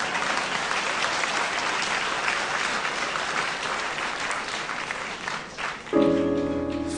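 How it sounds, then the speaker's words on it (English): An audience applauds steadily and loudly for several seconds at a live concert, a dense wash of clapping, before music abruptly cuts in near the end. "Well, come on, clap"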